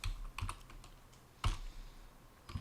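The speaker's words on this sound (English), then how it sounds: "type in your own password this time" Someone types a password on a computer keyboard while logging back in to a VPS server, giving short bursts of clicking keystrokes with pauses between them, the loudest burst near the middle.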